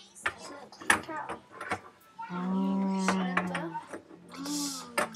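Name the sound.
cow mooing, likely a toy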